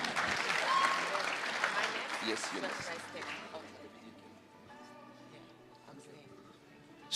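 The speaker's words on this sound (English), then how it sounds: "Can we give him a round of applause," An audience at a national ICT summit applauds for the Deputy Minister, loud dense clapping at first that fades over several seconds into quieter room noise.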